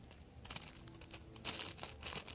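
A plastic bag used as packaging for a panda bun squishy toy being handled, giving short, irregular crinkles and rustles that grow louder toward the end, close up and with no talk.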